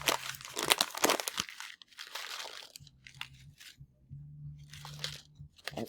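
A small plastic bag holding beads is crinkled and torn open up close, with bursts of sharp crackling and rustling separated by quiet pauses and a faint low hum underneath.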